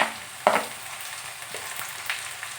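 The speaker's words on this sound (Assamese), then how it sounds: "এতিয়া মই ইয়াত বিলাহীখিনি দি দিম" Tomatoes tipped into hot oil, frying with a steady low sizzle, a sharp hiss and clatter as they land, followed by faint stirring scrapes; no one talks.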